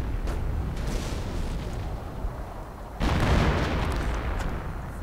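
Mortar rounds and artillery shells strike an MG-42 position in a World War II real-time strategy game, a continuous rumble of explosions and gunfire with a louder burst of blasts partway through; no voices.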